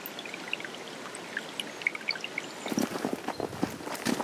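A small stream flows beneath a little footbridge on a forest hiking route, a soft steady trickle and pour with scattered drips, faint and close, growing splashier in the last second and a half.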